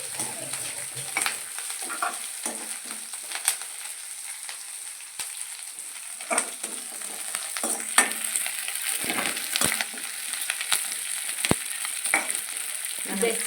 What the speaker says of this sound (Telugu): జస్ట్ ఇందులో నుంచి మంచి అరోమా వచ్చేంత వరకు ఇలా ఫ్రై చేసేసుకొని